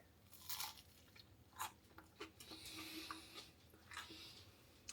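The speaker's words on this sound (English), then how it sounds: "listen to the crunch when I bite it" Someone bites into a well-toasted sourdough crumpet, giving faint, close crunches and rustly chewing scattered over several seconds, with no talk.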